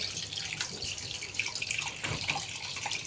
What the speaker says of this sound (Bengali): একটা একটা পিস করে মাছগুলোকে ধুয়ে নেব